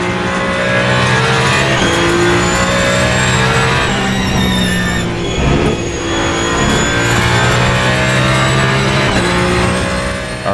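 Race car engine in the video game Le Mans Ultimate, a loud, continuous high-pitched drone with shifting revs and gear changes throughout, close and dominant with no talk over it.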